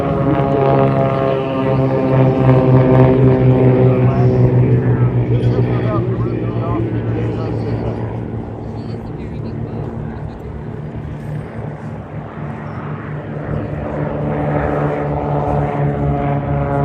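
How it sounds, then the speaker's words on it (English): Aircraft taking off from the runway at the EAA AirVenture Oshkosh airshow, a loud, sustained propeller engine drone that swells and then eases, with a commentator talking over it throughout. "Watch both those as they come off the runway from your right to your left, and watch the gear cycle as they put the gear up"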